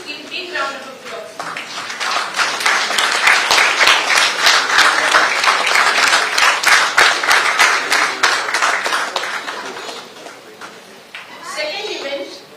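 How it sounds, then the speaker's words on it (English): A large audience at a World Environment Day celebration and seminar gives a sustained round of applause that swells, holds dense and steady for several seconds, then fades, with a voice briefly heard near the end. "Please give a big round of applause."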